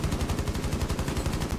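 Rapid automatic gunfire in Rainbow Six Siege, a dense unbroken burst of shots lasting the whole moment, loud and close with no voices over it.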